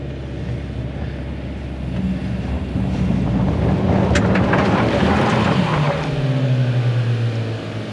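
A 2025 Hyundai Santa Cruz driving off-road at full throttle gives a steady, loud engine roar that swells in the middle, mixed with heavy wind buffeting on the microphone.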